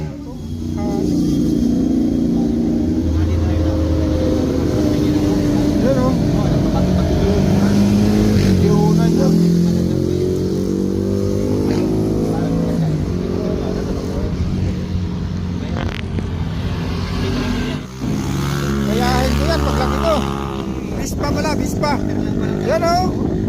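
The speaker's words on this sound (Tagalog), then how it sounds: "Binablog ko yung motor mo eh." A motorcycle engine runs loud and steady throughout a ride in the Sierra Madre mountains, with its throttle rising and falling under near-constant talk.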